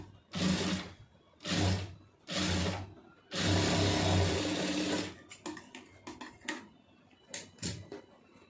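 A sewing machine stitching along marked lines on fabric, running in four loud close bursts of rapid mechanical whirring, the longest nearly two seconds, followed by softer short clicks and handling knocks.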